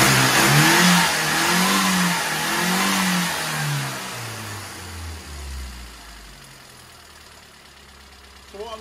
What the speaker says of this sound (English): But we have a workable engine.